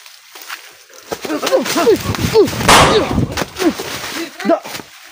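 Sharp gunshots crack repeatedly, loud and close, mixed with excited shouting voices.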